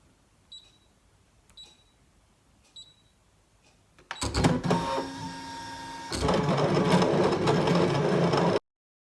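A Brother ScanNCut machine draws a solid-colour fill with a Stampin' Up Stampin' Write marker. A few light clicks come first, then a loud, steady mechanical whirring and rattling runs nearby until it stops abruptly.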